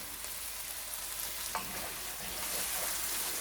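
Margoze (bitter gourd) fries in a pan with tomato and a little sugar: a steady, even sizzle runs throughout, with one brief light clink of a utensil partway through.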